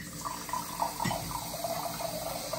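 A water dispenser fills a glass after its button is pressed, giving a steady, close pouring trickle that runs through the whole stretch with no talk over it.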